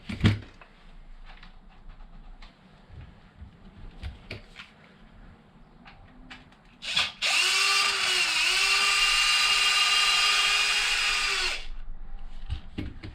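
A power tool, likely a drill driver, whirs loudly for about four seconds while removing the bottom screws on a Losi DBXL 32cc RC truck, after a few quiet clicks and handling sounds.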